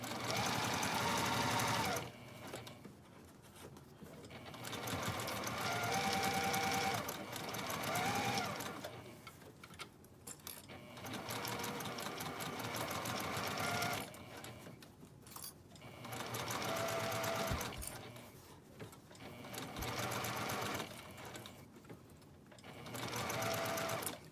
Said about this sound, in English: I find it's easier to sew this with the top of the hat on the bed of the machine